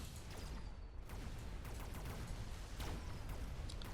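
Sci-fi battle din from the mech strategy game Mechabellum as a marksman unit fires amid a steady roar of weapons and machinery, with dense crackling impacts and a few sharper reports standing out, no voices.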